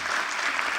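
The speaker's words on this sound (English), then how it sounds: "let's clap for our esteemed panelists once again" Steady applause from an expo audience clapping for a panel of speakers at a session in Jaipur, a dense, even wash of many hands held at constant loudness throughout.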